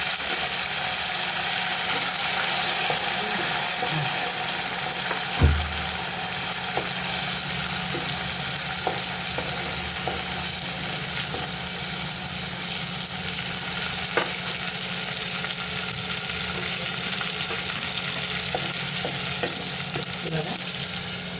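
Tomato and coriander sizzle steadily in a hot pan while a utensil stirs and scrapes through them, a continuous close frying hiss with occasional clinks and no talk.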